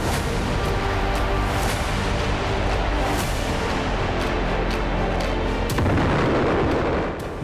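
Heavy bombardment of a Ukrainian city by bombs and missiles, a loud continuous roar of blasts and booms with sharp cracks scattered throughout and a bigger burst near the end, no voices.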